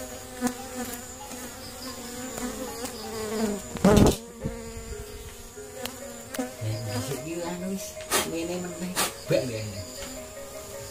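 Honey bees buzz around an opened hive during a honey harvest, a steady close droning with pitch-shifting hums and occasional knocks, while someone talks throughout.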